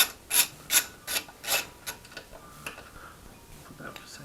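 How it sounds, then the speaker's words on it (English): A 10mm ratchet loosens an exhaust bolt on a Honda CRF250L, five distinct rhythmic ratcheting strokes up close, then quieter rubbing and faint mechanical clicks. "we need to do is use a 10mm ratchet. Just loosen that one a bit"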